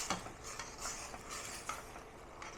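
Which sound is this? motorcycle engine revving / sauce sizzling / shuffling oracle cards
sauce sizzling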